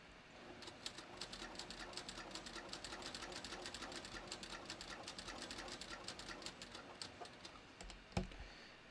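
Domestic sewing machine stitching a bathrobe, a faint, rapid rhythmic clatter of needle strokes running steadily for several seconds before stopping with a soft thump.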